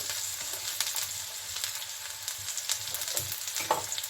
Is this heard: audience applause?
no